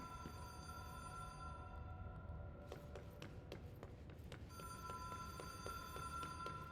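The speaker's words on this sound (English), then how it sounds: "How come there's a red phone on?" A red hotline telephone rings in the video game Control, a repeated electronic bell pattern in short bursts, moderately close over a quiet ambient game backdrop.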